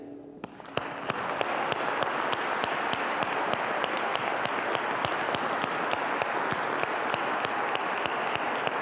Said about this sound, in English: this applause is for the world champion